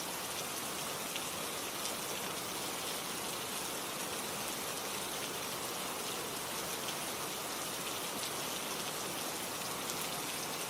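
Steady rain falls in a dense, even hiss of countless drops on surfaces, constant and fairly close with no pauses or other sounds.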